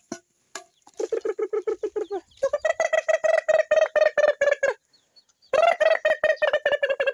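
Chickens in a rural Nepali farmyard cluck loudly and close by in rapid repeated bursts, pausing briefly between runs of calls.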